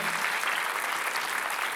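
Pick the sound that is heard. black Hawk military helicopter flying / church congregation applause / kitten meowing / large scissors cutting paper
church congregation applause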